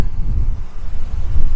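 Wind rising over the open Eastern Fells of the Lake District buffets the microphone in a low, uneven rumble that swells and eases over a couple of seconds, with no talk.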